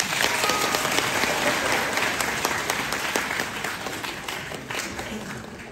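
A full audience at a Deyunshe crosstalk comedy afternoon show in Nanjing claps in dense, sustained applause that tapers slightly toward the end.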